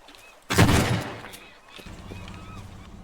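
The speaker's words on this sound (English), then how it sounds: "Shotgun." A shotgun blast in the video game Teardown, one loud close boom that decays over about a second, followed by lower rumbling game ambience.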